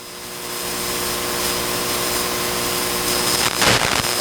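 Pure stock race cars roar around Flamboro Speedway just after the green flag, a loud, continuous engine drone swelling toward the end.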